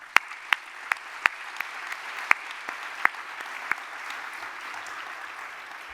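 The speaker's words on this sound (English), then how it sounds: "please join me to applaud all of them for their hard work." Audience applause for co-organizers at the opening session of a biodiversity monitoring conference, a steady wash of clapping with sharp individual claps standing out, holding evenly for several seconds in a hall.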